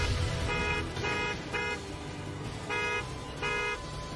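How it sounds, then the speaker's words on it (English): Car horns honk in protest against Michigan's stay-at-home order in downtown Detroit, a series of five sustained toots of about half a second each, fairly close, with steady traffic rumble underneath. "The sound of honking horns signaling frustration with Michigan's stay-at-home order."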